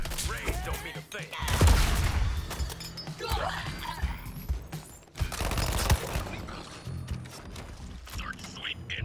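Heavy gunfire and crashing impacts in Suicide Squad: Kill the Justice League on Xbox Series S, bursts of shots with loud hits around two and six seconds, mixed under game dialogue.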